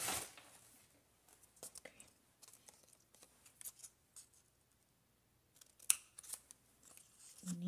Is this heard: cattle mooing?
no